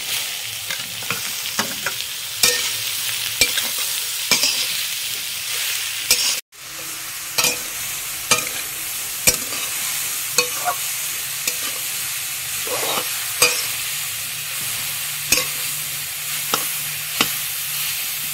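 Carrots fry in ghee with small cardamom pods and bay leaf, a continuous sizzle broken by regular scraping stirs of a spoon in the pan, with one brief dropout midway.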